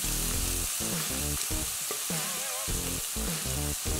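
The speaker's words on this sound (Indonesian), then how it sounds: "kita tumis sampai harum." Garlic and onion sauté in hot olive oil with a loud, dense sizzle throughout, largely overlaid by prominent background music with no speech.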